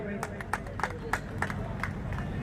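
At a community award ceremony, an audience claps under a steady crowd murmur, with a few louder claps standing out over a continuous background of voices.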